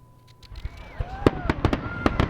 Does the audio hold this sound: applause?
no